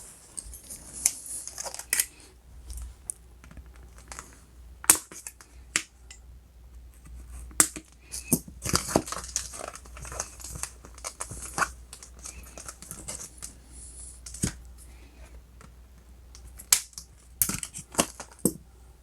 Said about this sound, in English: So I need to use a scissor to cut this string out.